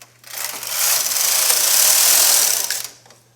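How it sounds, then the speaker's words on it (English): A knitting machine carriage sweeps across one row of yarn for a sweater, making a single sustained mechanical whirring swish of about two and a half seconds, close by, over a faint steady low hum, with no voices. "I'm going to pick up the next stitch and knit 1 row"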